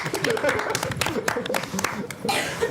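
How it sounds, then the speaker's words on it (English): Studio audience and talk-show guests clapping at the close of a TV studio show, a dense steady patter of handclaps with some chuckling and voices mixed in throughout. "Clap for yourselves."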